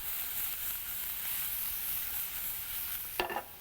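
Grilled chicken sizzles steadily in a hot pan, a close, even frying hiss with a short clatter of stirring near the end.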